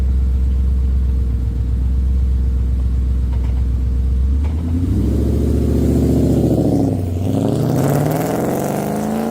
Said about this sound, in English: just listen to how I take off in this car.